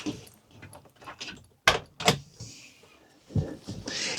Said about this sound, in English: I'm gonna go open up the door real quick.